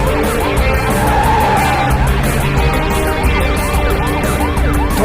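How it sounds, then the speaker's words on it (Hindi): A speeding car in a chase scene from a Hindi-dubbed South Indian action film gives a loud, continuous roar with tires skidding and squealing over a dense engine rumble and a siren-like wail, with no talking. "गाड़ी थोड़ा तेज चलाओ ना"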